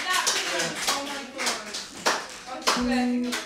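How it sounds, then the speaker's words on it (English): A few scattered hand claps from an audience ring out in separate bursts, mixed in with people talking nearby. "Clap, you ungrateful bastard."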